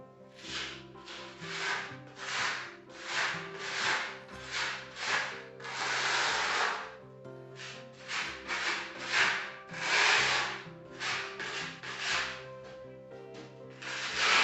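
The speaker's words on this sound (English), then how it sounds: "The next job is to top coat over the filling, fill up these cracks" A filling knife spreads and scrapes filler across cracks in a wall, making repeated rasping strokes in a steady rhythm, loud and close with short pauses between passes.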